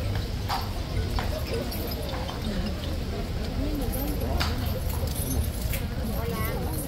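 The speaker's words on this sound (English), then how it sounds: "Big horse, very big horse." Police horse hooves clip-clop on a hard surface in an uneven rhythm, close by, with people talking in the background, during heavy rain.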